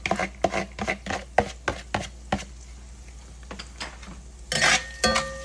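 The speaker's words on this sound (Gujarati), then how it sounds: "અને ડુંગળીને આપણે 5-7 સેકન્ડ માટે સોટે કરી લઈશું" Onion and ginger go into a pan of gravy being cooked for samosa chaat, with a run of close, regular clatters and stirring knocks, then a louder burst of sizzling near the end; no one talks.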